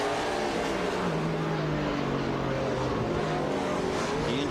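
A NASCAR Cup stock car at Sonoma in 2007 brakes hard, its engine note falling steadily as it slows, loud and near against steady crowd and track noise.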